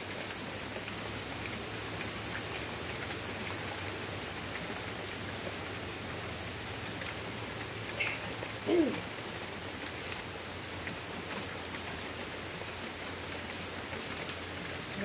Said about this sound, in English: Let's watch the rain.